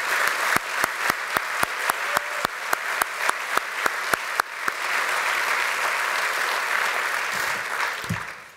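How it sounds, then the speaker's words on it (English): Steady applause from a crowd at a Cal Maritime commencement ceremony, punctuated by a rapid series of sharp, evenly spaced clicks through the first half, fading out at the end. "Please join me in a round of applause."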